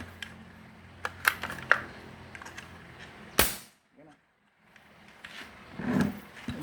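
A homemade Strella Parco firing again after a DIY valve repair, giving a few sharp cracking pops and one loud bang, followed by a brief quiet and a low rumble.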